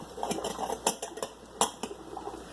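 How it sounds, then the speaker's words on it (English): A spatula scrapes and taps inside a glass canning jar packed with Swiss chard, giving a series of irregular clinks and knocks, close and fairly quiet. "Taking my spatula, you can also use a chopstick for this. I debubble it."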